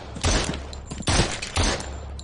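Gunfire in the video game Surv1v3 comes as three heavy, booming bursts about half a second apart, each with a short crackling tail over a low steady background.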